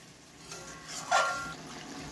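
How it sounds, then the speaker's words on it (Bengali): Water is poured into a pan of spicy red curd cauliflower roast: a brief splashing gush swells mid-way and then tapers into a quiet trickle against faint background noise. "এবার দিয়ে দিচ্ছি জল"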